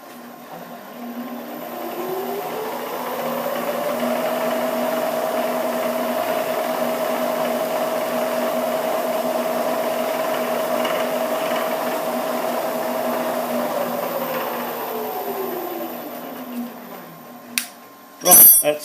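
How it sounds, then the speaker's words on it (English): A milling machine drills a hole into a 1-2-3 block during a carburettor butterfly shaft repair, its steady whine ramping up, holding for about fifteen seconds, then winding down, with a few clunks at the end. "So we're drilling into a hole"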